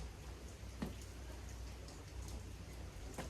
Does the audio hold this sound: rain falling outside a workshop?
yes